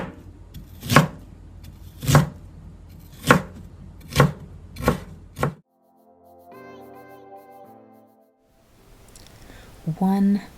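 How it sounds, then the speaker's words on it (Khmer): Ginger cut into small pieces with a knife on a board for kimchi, six sharp evenly spaced chops close up, then a pause with faint music and a short clatter at the end. "Peel off the skin, slice and cut into small pieces."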